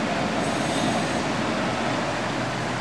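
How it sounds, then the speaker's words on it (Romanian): Elevated metro train rolling past at close range, a loud steady rumble of wheels and cars that stays constant throughout, with no voices. "Este metrou. Metroul aici circulă pe sus,"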